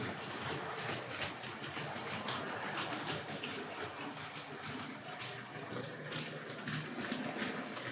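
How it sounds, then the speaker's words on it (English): A Tri-ang Hornby R.251 maroon 3F tender locomotive runs around a model railway track, a faint steady rolling whir with rapid light clicks from the rails throughout. "the train's storming around behind me"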